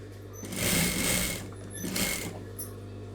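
A sewing machine stitches blouse fabric in two quick rattling bursts, each a fast mechanical whir up close, separated by a short quiet pause.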